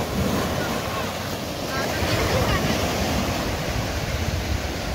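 Surf washing onto the gently sloping sand of Rajbagh Beach in Goa, a steady broadband roar of breaking waves mixed with gusting wind buffeting the microphone, continuous and fairly loud.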